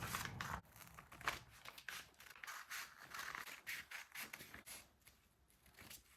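Scissors snipping through corset fabric while cutting out a cup piece, a quick run of close, crisp cuts with a soft papery scrape, fairly quiet and with no talking.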